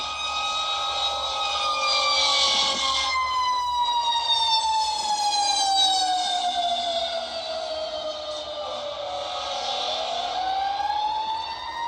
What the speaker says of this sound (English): From morning to night, I hear ambulance and fire trucks.